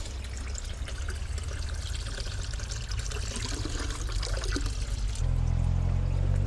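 Water pours steadily into a container for a taste test, a close continuous splashing trickle that grows fuller and deeper toward the end.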